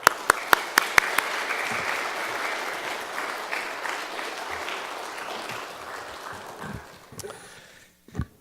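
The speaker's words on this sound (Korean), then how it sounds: "목사님 오실 때 박수로 여러분 맞이해 주시기 바랍니다." A church congregation applauds steadily indoors, clapping that starts with a few sharp claps, holds, then thins out and fades near the end.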